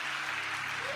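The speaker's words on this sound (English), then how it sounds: "Look at them idiots clapping in the background." A debate-show audience claps in the background, a brief, steady burst of dense applause.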